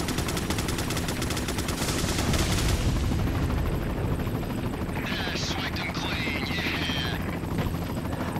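Helicopter in the video game Resident Evil 4, a loud steady rotor drone with chattering gunfire bursts early on, continuous throughout.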